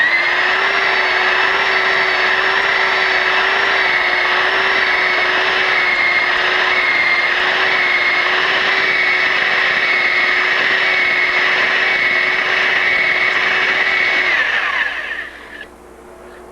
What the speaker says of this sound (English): Kind of an probably not your average drilling procedure, an unorthodox drilling procedure